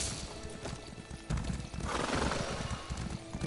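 In a fantasy role-playing game, a horse clip-clops with steady hoofbeats and whinnies loudly over a dense, noisy game soundscape; nobody speaks.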